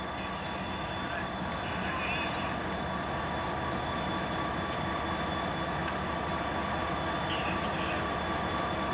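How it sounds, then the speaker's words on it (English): A CSX work train loaded with equipment on the Plymouth Subdivision in Michigan in 1996 rumbles past steadily and near, with faint wheel squeal and rail clicks, and someone talks over it. "This train happens to be a load of equipment."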